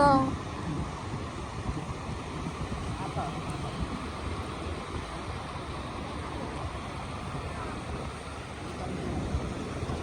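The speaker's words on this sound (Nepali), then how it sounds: "कस्तो अनलिमिटेड वाला समुद्र यार" Sea waves break near Kamakura in a broad, constant wash mixed with wind buffeting the microphone, and people talk now and then over the surf.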